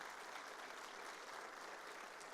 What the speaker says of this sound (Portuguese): receba nesse momento os aplausos dos frutos da semente que o senhor plantou